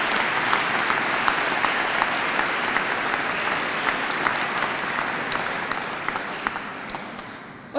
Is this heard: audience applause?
yes